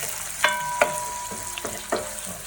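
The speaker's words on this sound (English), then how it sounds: "I've also added the fresh chilies and I'm just going to cook that in for a couple of moments" Ginger and fresh chilies sizzle quietly in a pan for a chicken curry, a soft steady fry broken by a few sharp clicks of stirring, with no voices.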